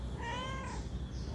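A house cat gives a single drawn-out meow with clear rising and falling harmonics, near and fairly loud over low steady room hum, with no one speaking.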